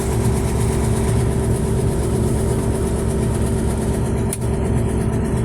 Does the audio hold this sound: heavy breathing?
no